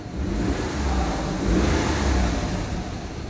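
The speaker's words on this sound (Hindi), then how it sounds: "एक्सीलेटर मैं कर रहा हूँ गाड़ी को" Suzuki Alto engine, just cleared of a misfire fault, revving as the accelerator is pressed, a close, loud rising and falling roar with a continuous low rumble.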